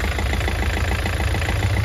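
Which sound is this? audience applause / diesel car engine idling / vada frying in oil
diesel car engine idling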